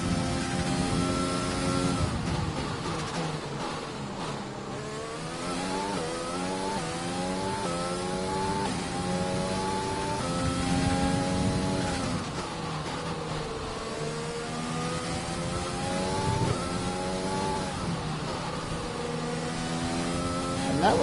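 Formula One car engines screaming in F1 2020 at the start of the Austrian Grand Prix, loud high-pitched revs climbing repeatedly through gear changes, with several cars blending together in a continuous roar.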